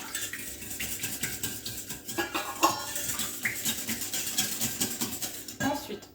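Eggs, milk and olive oil are mixed for dough, with quick, repeated clinks and scrapes of a utensil against a bowl, soft and close, while a voice talks over the stirring.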